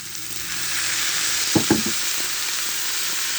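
Bitter gourd and potato frying in a pan give a steady broadband sizzle, then a splash of water hits the hot oil with two brief, sharper bursts of hissing before the sizzle settles back to an even level.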